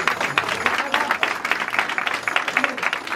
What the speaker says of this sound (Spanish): Así es que un aplauso, por lo menos, para todos.